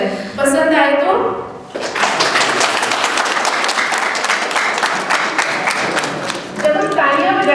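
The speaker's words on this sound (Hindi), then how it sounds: "जब हम तालियां बजाते हैं" An audience claps hands together in sustained applause, a dense crackle of many palms lasting several seconds, with a speaker talking before and after the clapping.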